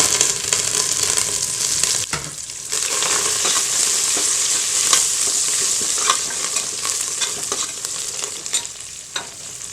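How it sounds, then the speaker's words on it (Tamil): Onions frying and sizzling in a pan for chicken pulao, a loud continuous close hiss with scraping stir sounds throughout and no talking. "வெங்காயத்தை நல்லா வறுத்தாச்சு."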